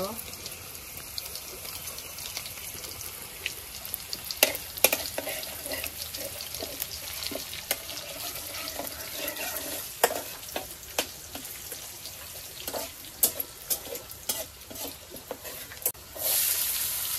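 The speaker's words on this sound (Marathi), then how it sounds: "टाकतोय मी झणझणीत लसणीची फोडणी." Garlic tempering crackles in hot oil for a Konkani village-style colocasia leaf dish, a dense, continuous sizzle with sharp pops throughout, steady and close, with brief talking over it.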